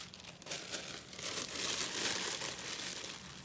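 Crepe paper in dark and light shades being crumpled by hand while shaping giant paper flowers, a steady close crinkling and rustling that swells and continues without pause.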